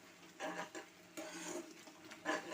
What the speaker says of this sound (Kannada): ಇದನ್ನು ಗಟ್ಟಿ ಆಗೋ ತನಕ ಇದನ್ನು ಹೀಗೆ ತಿರುಗಿಸ್ತಾ ಇರಬೇಕು